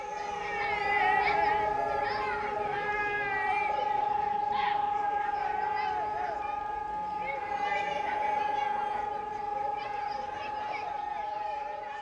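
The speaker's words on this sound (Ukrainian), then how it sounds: "Під час знімання оголосили повітряну тривогу." An air raid alert siren sounding over a kindergarten in Lutsk, Ukraine: a steady, sustained wailing tone that holds for the whole stretch while people talk nearby.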